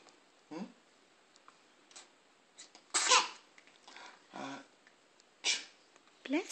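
A sneeze bursts out amid scattered short coughs and small vocal sounds, close and fairly quiet, with brief gaps of near silence between the bursts.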